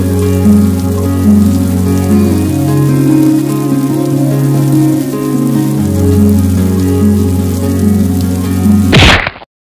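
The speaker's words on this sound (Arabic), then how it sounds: "شكل المطر مو بقوة" Steady rain falls throughout as a continuous soft wash, mixed with sustained droning musical tones, and cuts off abruptly with a brief noisy burst near the end.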